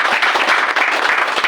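A short, dense burst of clapping from a group at a business opportunity meeting, brisk and close, lasting just over a second.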